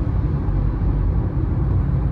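A Citroën C4 Cactus car on the road, heard as a steady low rumble and whir of passing road noise without any clear peak, moderately loud and continuous over about two seconds.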